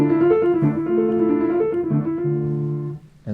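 Piano opening of Schubert's Gretchen am Spinnrade plays a continuous, evenly rippling figure evoking a spinning wheel, sustained and clear, before fading to near silence at the very end.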